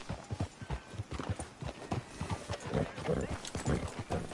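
Horse hooves clip-clop steadily in Red Dead Redemption 2, a continuous walking rhythm of hoofbeats close by, fairly faint, with no talking over them.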